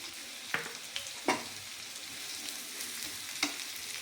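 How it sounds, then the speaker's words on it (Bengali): Chopped onions frying in oil with salt after a black cumin and green chilli tempering, a soft, steady sizzle close by, broken by a few sharp spoon taps and stirring clicks. "পেঁয়াজের মধ্যে আমি নুন দিয়ে দিচ্ছি পেঁয়াজটাকে একটু নরম হওয়ার জন্য। পেঁয়াজটাকে একটু ভেজে নেবো।"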